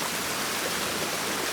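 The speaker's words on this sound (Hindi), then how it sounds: "यहाँ से भी पानी आ रहा है और वहाँ से भी पानी आ रहा है।" Water rushes down a mountain stream in a hilly village, a steady, dense hiss of flowing water heard close and loud with no voices.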